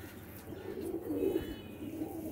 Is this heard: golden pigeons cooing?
yes